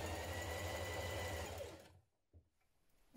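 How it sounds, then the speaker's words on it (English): Sewing machine runs a zigzag stitch along a sleeve hem, a close, steady mechanical whir for about a second and a half before winding down to near silence, with a couple of faint clicks afterward. "I'm using a zigzag stitch to do this, doing it from the inside, and this way you can catch in the raw edge as you go"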